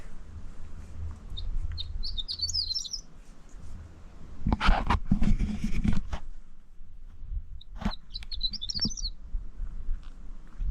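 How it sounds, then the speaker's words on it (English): A horned lark in Olympic National Park sings two short, high, tinkling twitters a few seconds apart, separated by a burst of close rustling and handling noise over low outdoor rumble. "A horned lark, that's a new one."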